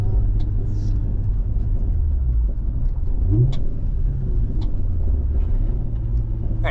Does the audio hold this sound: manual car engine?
yes